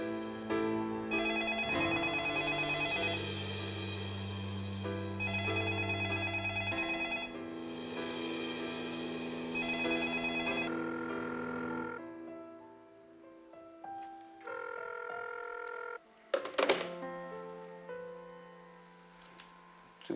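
A telephone rings on and on with no one picking up, repeated electronic ring bursts filling the room, then a few fainter, scattered tones as the ringing trails off near the end.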